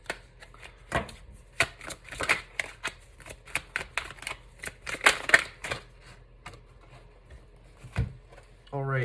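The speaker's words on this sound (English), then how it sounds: "I'm going to keep shuffling" Tarot cards shuffled by hand in quick riffling bursts, close and fairly quiet, with short pauses between runs and a person speaking softly at times.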